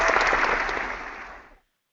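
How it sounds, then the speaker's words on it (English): Applause from an audience at an online business talk, a dense burst of clapping that starts at full strength and fades away over about a second and a half into silence. "Let's give Kimberley a big round of applause for those of you who like to applaud."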